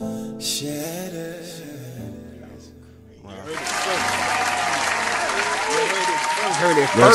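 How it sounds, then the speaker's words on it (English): Audience applause after a live song performance by a singer on a talk show; a voice speaks first, then clapping rises abruptly and holds loud and dense to the end. "Just real claps for that."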